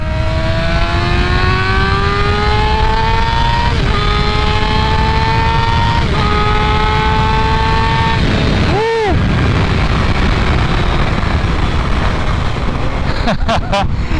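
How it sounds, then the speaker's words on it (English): A 2020 Kawasaki Ninja ZX-6R 600cc sport bike revs hard through its exhaust, pitch climbing steadily through several gear pulls with brief dips between shifts, loud and close over heavy wind rush. "that exhaust sounds nice once you get up there in the RPMs"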